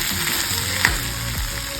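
Leftover cooked rice tossed with peas, chilli, tomato and green onion sizzles steadily in a hot pan, with two sharp scraping stirs of a spoon cutting through the constant frying hiss.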